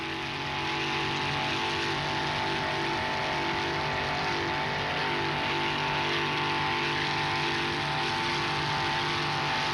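Offshore racing powerboats at a 1995 Miami Beach Grand Prix round a turn, their engines a continuous, dense roar mixed with rushing water noise, steady and fairly loud from a distance.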